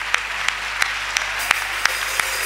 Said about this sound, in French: Acclamons-le très fort.